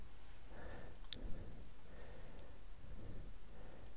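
A few sharp computer mouse or keyboard clicks ring out in a quiet room while text is being cut and pasted, short and isolated over a low background hum.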